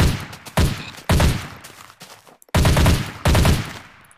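AK rifle fire from a Minecraft gun mod comes in several loud, close bursts of rapid shots, separated by short pauses.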